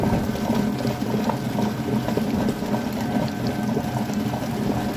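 Mixer grinder whirring as it grinds Goan fish fry masala of chillies and spices with a little water, a steady continuous churning drone with rattling texture throughout, close and moderately loud.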